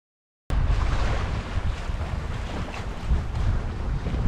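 Sailboat heading out of a bay in a flotilla after a raft-up during a Miles River race, with steady wind buffeting the microphone and water rushing along the hull, loud and continuous.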